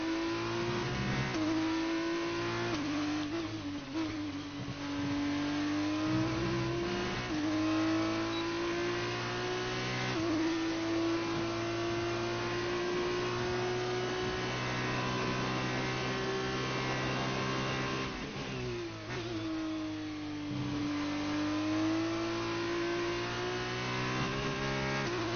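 Formula 2 race car at the Italian Grand Prix, its engine revving on track with a sustained high whining note that climbs and dips repeatedly through upshifts and braking, loud and continuous for about twenty-five seconds with no talking.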